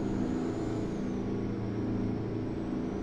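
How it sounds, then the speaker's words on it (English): Freightliner truck engine in American Truck Simulator, a loud, steady low drone that holds evenly from start to finish. "that truck engine was way too loud"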